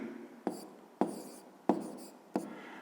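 A pen writes numbers by hand on paper, giving four quiet, close scratchy strokes with short pauses between them, each stroke starting with a light tap, and no talking.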